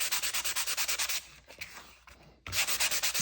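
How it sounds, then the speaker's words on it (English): A sanding block rubs over a painted paper background in quick rhythmic strokes, briefly slowing to softer irregular scraping before the brisk back-and-forth resumes, close and clear. "I would take my sanding block and I would just start sanding it like this"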